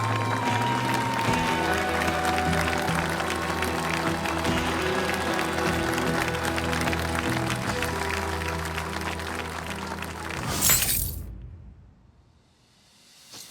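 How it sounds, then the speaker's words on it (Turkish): A television studio audience applauds three women receiving awards at an evening ceremony, steady clapping layered over music for about ten seconds before it cuts off abruptly into near silence. "Bu üç şahane kadını alkışlayalım."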